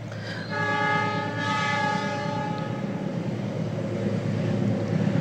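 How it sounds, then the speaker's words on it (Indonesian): A train passes nearby, its horn sounding a loud sustained multi-tone blast over the steady rumble of rolling railcars, continuing alone without talk. "ada kereta api lewat"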